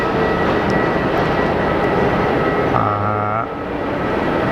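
A Pilatus PC-12 single-engine turboprop, a patched-up one, drones loudly and steadily at a Geneva airport, with a brief tonal whine rising partway through.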